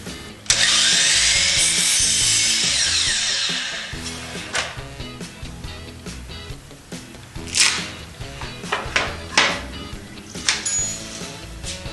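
A power tool cuts wood pieces for a corner shelf: a loud, close saw whine runs for a few seconds and winds down, followed by knocks, clatter and short bursts of handling the boards.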